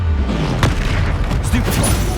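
Confringo fire spell explosions in the video game Hogwarts Legacy during combat, dull booming blasts and impacts in quick succession, loud and close with a character shouting over them.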